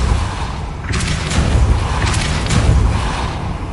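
A Depulso spell cast in a Hogwarts video game: after a low rumbling lead-in, a loud broadband whooshing blast bursts in and rolls on for nearly three seconds, with booming thumps surging twice, close and without any voices.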